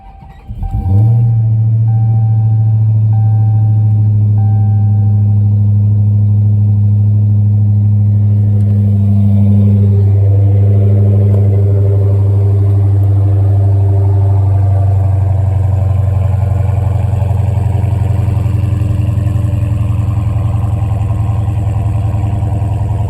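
A 2023 Dodge Charger SRT Hellcat engine cranks and fires, a loud close start flaring up before settling into a deep, steady, rumbling idle that carries on unbroken, with a slight shift in tone partway through.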